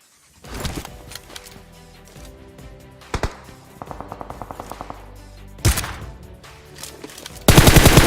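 Bursts of rapid automatic gunfire in a video game ring out in several volleys, with single sharp shots between them and a loud sustained burst at the end.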